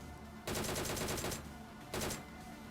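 Two close, loud bursts of automatic gunfire from the video game BGMI: a longer spray of about a second, then a brief second burst.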